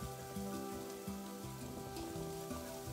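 Video game rain falls as a steady, soft patter over a continuous bed of game music, fairly quiet and unbroken, with no talking.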